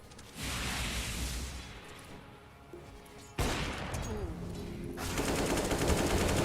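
Pistol fire in a Counter-Strike-style shooter, including Deagle shots: dense, sharp reports crackle loudly throughout, with a sudden heavier burst partway in and a thick clatter near the end.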